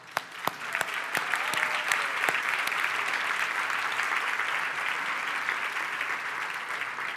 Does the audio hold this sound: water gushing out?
no